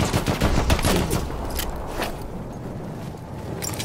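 Machine gun fire in the video game Battlefield 1, a dense, continuous rattle of bursts with crackling impacts, loudest at the start and easing into sparser distant shots.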